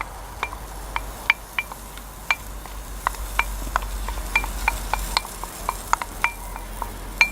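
Onions sweating in hot vegetable oil on a lit burner give a soft, steady sizzle, broken by frequent light ticks and pops as the pieces are stirred around the pan, close by with no talking.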